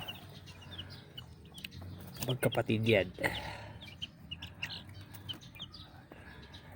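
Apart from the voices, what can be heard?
roosters clucking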